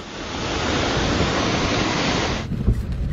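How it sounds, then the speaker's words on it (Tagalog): A loud, steady rush of churning muddy river water in a strong current roars continuously, close and dense, easing off abruptly near the end. "malakas ang agos ng malaputik na tubig sa ilog"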